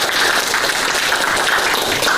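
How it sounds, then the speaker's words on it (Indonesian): A classroom of students claps for a classmate, a short burst of steady, fairly close applause that fills the whole moment. "mari kita tepuk tangan dulu untuk dia."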